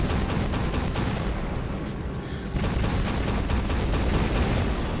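Rapid-fire weapon from the Russian Overkill Doom mod with Gun Bonsai, hammering out a dense, nonstop stream of loud shots and blasts with a brief dip midway before resuming.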